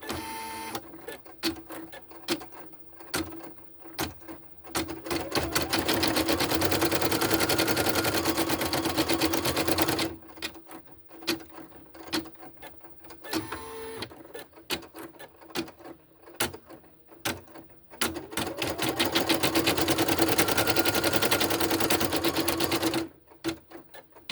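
An embroidery machine stitches felt voodoo doll felties, a rapid, dense mechanical clatter running in long steady stretches, broken by quieter gaps of scattered clicks and thumps as it pauses between sections.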